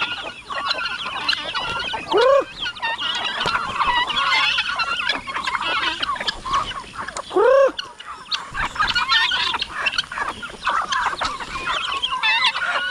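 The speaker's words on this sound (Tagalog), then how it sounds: "kain sa ating mga alaga manok" Chickens cluck steadily in a busy yard, with a couple of louder rising calls standing out above the continuous flock noise.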